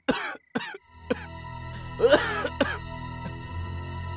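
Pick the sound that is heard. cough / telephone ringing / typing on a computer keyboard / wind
cough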